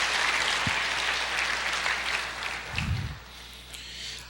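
A church congregation applauds, a broad wash of clapping that gradually thins and fades, with a brief low thump partway through.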